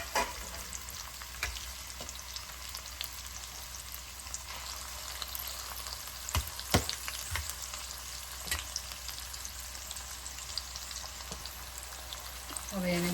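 Tomatoes frying in a pan for kala chana masala, giving a steady close sizzle with scattered crackles and pops that run throughout without a break.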